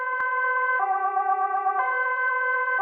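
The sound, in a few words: sirens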